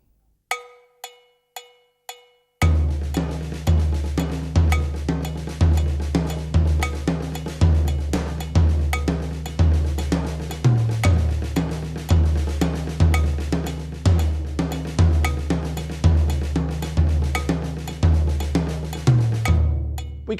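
Drum kit playing an Indian-style rhythm built on a paradiddle pattern with tom accents: a few sparse count-in hits, then a loud, steady, driving groove of rapid strokes and deep tom accents with cymbal wash, played alone.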